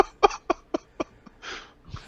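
A man coughs in a quick run of five short, evenly spaced bursts. Two breathier, rougher sounds follow, all close and fairly loud.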